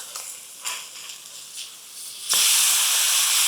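A smash burger patty cooks on a hot griddle with a loud, steady hiss and sizzle that rises sharply midway and stays close and bright through the end, with no talking.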